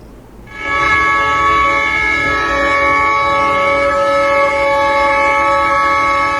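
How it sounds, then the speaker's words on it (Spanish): A loud, sustained horn blares from trucks sounding their horns together in a protest in front of the White House in Washington, D.C., holding one steady chord for several seconds after a brief quieter moment. "Un grupo de camioneros sonaron el claxon de sus vehículos en protesta"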